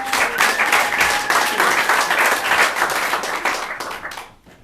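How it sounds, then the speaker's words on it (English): An audience at a live stage showcase bursts into loud, dense applause, many hands clapping steadily before fading away at the end. "the lights come up, let's clap them in."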